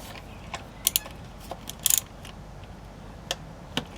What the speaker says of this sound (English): I have the swivel socket wrench, so we'll use this to remove